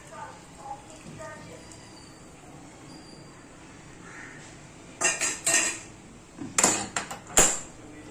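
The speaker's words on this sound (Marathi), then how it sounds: "आणि आता ते चांगलं व्यवस्थित फेटून घ्यायचंय" Cheesecake batter is beaten in a bowl. After several quiet seconds, a few loud bursts of clattering, scraping utensil-on-bowl strokes come close up.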